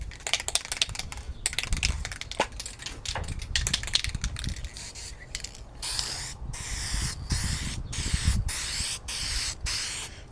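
An aerosol can of adhesion promoter hisses in short and longer bursts onto a 3D-printed RC vehicle part outdoors in light wind, with clicking and handling noises between sprays.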